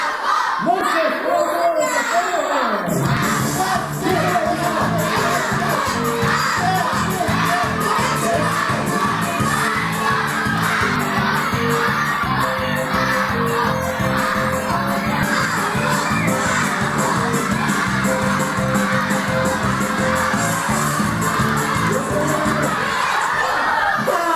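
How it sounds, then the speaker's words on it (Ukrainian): Loud crowd of children shouting and cheering names together at a New Year party, a dense continuous roar of young voices that starts after a brief quieter moment and keeps going. "А хто буде вболівати за Павла? Голосно кричить Павло!"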